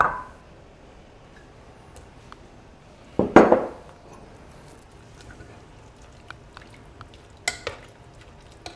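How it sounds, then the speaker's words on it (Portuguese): Sausages and bacon frying in a pan while making lentil stew, with a soft steady sizzle, a sharp clatter of utensils against the pan near the middle and a few light taps later. "Vamos colocar as linguiças aqui, tec. E a gente vai colocar já o bacon também"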